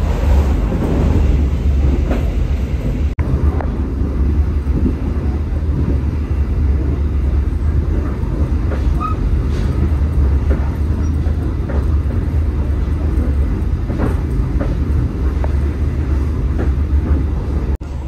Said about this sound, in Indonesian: kereta api Mutiara Timur baru saja melintas di stasiun Bayuman